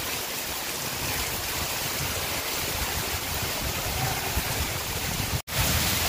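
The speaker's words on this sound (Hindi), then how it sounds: "तो देखिए कितनी बारिश लगी है।" A constant, dense rushing hiss of heavy rain fills the whole stretch, steady and unbroken apart from a brief cutout near the end.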